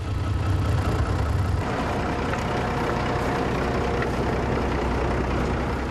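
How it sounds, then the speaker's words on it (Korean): A tracked all-terrain vehicle on the Kamchatka Peninsula has its engine started, then settles into a loud, steady, rumbling run that fills the whole stretch close by. "시동은 주인이 걸고 운전은 손님이 합니다"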